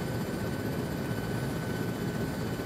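A Huey transport helicopter in Arma 3 drones steadily with a dense, continuous rotor and engine roar, loud and unbroken throughout with no talk.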